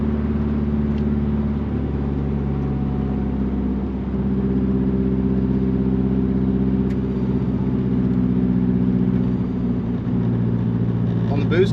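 A Nissan GTI-R engine pulls steadily in fifth gear, a sustained mid-pitched drone with a low rumble that holds even and close for the whole stretch.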